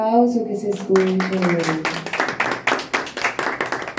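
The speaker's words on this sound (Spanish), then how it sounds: "Y fuerte el aplauso que se escucha" Steady clapping from a crowd at a birthday party, a burst of applause that follows the fading end of a mariachi band's sung or played note, continuing loud and dense.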